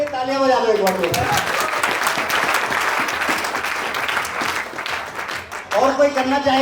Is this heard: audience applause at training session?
yes